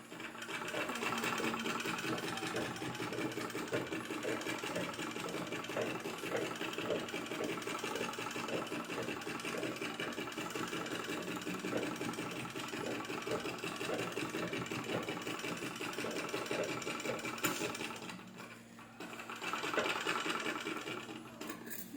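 Domestic sewing machine stitching the bodice of a girl's frock: a continuous, steady mechanical whir with rapid needle chatter, close and loud, running almost without break, dipping briefly near the end before resuming.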